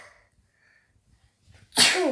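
One sharp, loud sneeze bursts out at the end after near silence, with a faint breath just before it.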